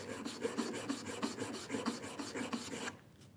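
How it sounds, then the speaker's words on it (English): A router plane blade is honed back and forth on a finer sharpening stone, a steady rhythmic rasping of about a dozen close strokes that stops near the end, with no talk. "So I'm going on the finer stone."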